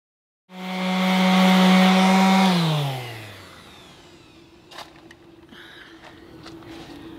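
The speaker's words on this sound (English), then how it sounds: "So today I am back to sanding." A power sander starts up on the fiberglass of a cracked boat hull, rising to a loud steady whine, then spinning down as its pitch falls, leaving low background hum and a few faint knocks.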